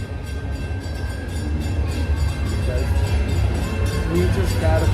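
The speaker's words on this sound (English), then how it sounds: "The train's right there." A train rumbles past close by at Magic Kingdom, a steady low rolling roar that builds slightly, with people talking nearby and crowd noise underneath.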